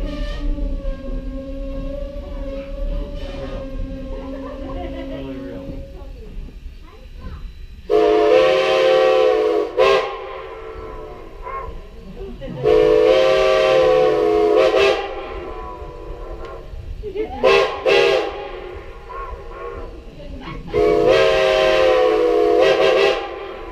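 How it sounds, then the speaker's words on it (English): A steam engine's whistle on the Strasburg Railroad sounds in several long, loud chordal blasts with pauses between, preceded by a fainter, distant whistle tone. "hear the whistle of that old ghost train"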